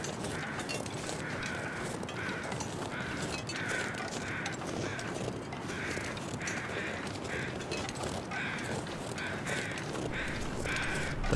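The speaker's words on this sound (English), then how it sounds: "Yeah, I do hear crows." Crows cawing in a video game, repeated harsh calls at a steady rhythm, fairly faint over a constant windy outdoor hiss.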